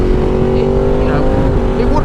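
A Ducati DesertX motorcycle engine drones steadily at a constant pitch while being ridden on twisty roads, with someone talking over the continuous engine and wind noise.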